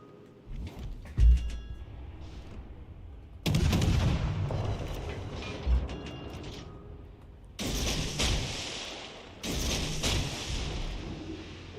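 Warship guns fire in World of Warships Legends in several separate salvos: heavy booming volleys with rumbling tails and pauses between them, some nearer and louder than others.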